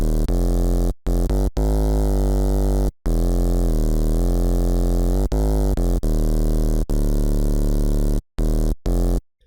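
Bass God, a synth bass sample made for bass house and G-House, plays as a loud, thick sustained bass riff with a few abrupt silent gaps between notes, alone with no voices.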